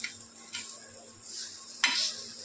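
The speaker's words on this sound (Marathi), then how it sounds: "इकडे मी 3 पीस फ्राय करून घेते कुप्प्याचे" Three pieces of tuna fish fry in a pan, giving a steady soft sizzle with light clinks of a utensil and a louder burst of crackling near the end.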